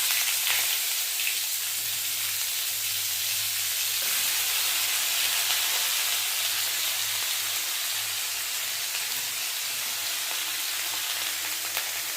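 Water lily stems (shapla) frying in a pan over a gas flame, a steady broadband sizzle and hiss running unbroken throughout at moderate level, with a faint low hum beneath and no voices.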